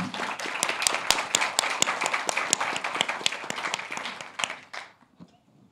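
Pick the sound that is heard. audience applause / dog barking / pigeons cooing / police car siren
audience applause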